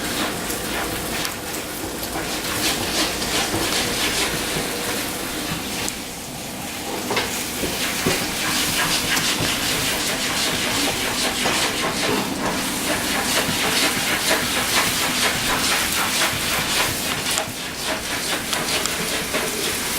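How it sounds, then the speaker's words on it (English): Shrimp, vegetables and oyster sauce stir-fry in a hot pan, giving a loud, steady hiss and sizzle with constant scraping texture, close-up and unbroken for the whole stretch. "I'm going to mix these all together. Shrimp and all the sauce and the vegetables."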